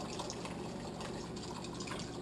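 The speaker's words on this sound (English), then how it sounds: "I will add water" Water pours steadily into a pot of beef stew made with beer, a continuous close splashing stream with no talk over it.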